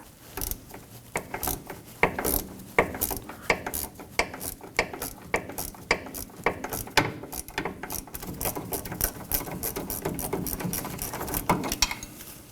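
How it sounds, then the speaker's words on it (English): A ratchet clicks rapidly while loosening a rear sway bar link bolt on a 2018-2024 Toyota Camry. Close, uneven bursts of pawl ticking come with small metallic knocks as the tool swings back and forth, with no talking. "we can go ahead and get our ratchet back on there"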